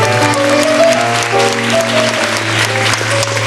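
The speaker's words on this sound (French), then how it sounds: "Monsieur Eric, qu'on applaudit très très fort." Studio audience at a 1977 French television show applauding as a child is welcomed: dense, loud, continuous clapping from a large crowd with a sustained musical tone underneath, and no speech heard.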